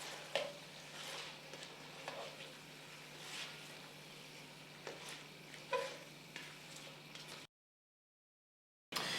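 Onions are stirred in a pan during Halloween cooking, giving soft scraping and light sizzling strokes at an uneven rhythm, faint and close, with a short silent gap near the end.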